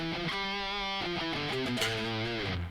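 An electric guitar plays a natural minor scale, stepping through single sustained notes one after another with a slightly gritty tone, alone and fairly quiet.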